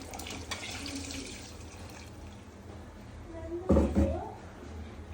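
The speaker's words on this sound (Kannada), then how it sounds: "ಸ್ವಲ್ಪ ನೀರು ಆ್ಯಡ್ ಮಾಡೋಣ." Water pours into a pot of chicken sambar, a short splashing gush near the end that rises out of a steady background hiss and low kitchen noise.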